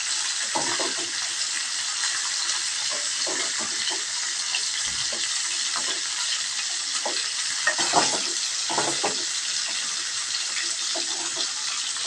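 Fish pieces fry in hot oil in a pan, a steady close sizzle with crackling spatters and occasional stirring clinks throughout.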